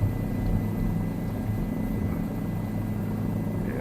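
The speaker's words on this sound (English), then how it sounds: "This helicopter doesn't like it." A helicopter in Microsoft Flight Simulator 2024 runs near full power while climbing over Rome, giving a steady, loud rotor and engine drone that stays constant and alone with no talk.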